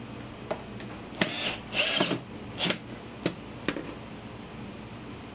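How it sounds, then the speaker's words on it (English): Power drill driving a screw into a wooden cabinet face frame, heard as several short whirring bursts and clicks of varying length, close by in a quiet workshop. "And the second screw I'll drive all the way in,"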